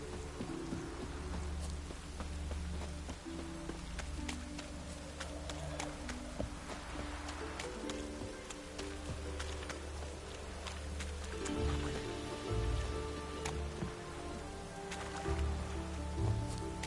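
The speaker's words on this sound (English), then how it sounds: "Looked like it would rain, and here it is." Rain falling in the video game The Witcher 3, a continuous soft patter under quiet background music, with faint hoof-like clopping and scattered clicks.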